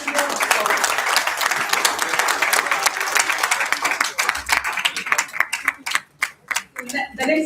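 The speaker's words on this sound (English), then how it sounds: "Let's keep the applause going as we go forward." Audience applause fills an award ceremony at a corporate townhall, a dense, steady wash of clapping that thins and breaks up near the end as a voice begins to speak.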